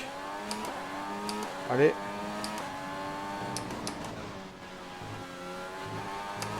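A race car in the F1 2020 video game accelerating hard, its engine tone climbing steadily in pitch over several seconds with brief shifts. Someone talks excitedly over it.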